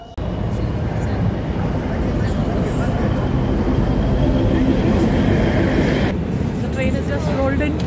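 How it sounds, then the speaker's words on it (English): A Vistadome train rolls slowly into a station in Kashmir in winter, a loud continuous rumble and grinding of wheels near the platform, with a brief hiss near the end. "And there the train is rolling in pretty slow."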